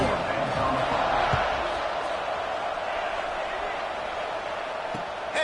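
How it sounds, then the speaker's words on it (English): Stadium crowd in the College Football 26 video game keeps up a steady, dense buzz after a score, with commentary running over the top throughout. "this crowd is buzzing after that last score"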